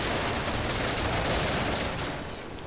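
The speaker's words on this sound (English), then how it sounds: "they called in a strafing run with some aircraft" Aircraft strafing run in Day of Infamy, a dense, rumbling roar of rapid gunfire and impacts washing over the area, loud and continuous before tapering slightly at the end.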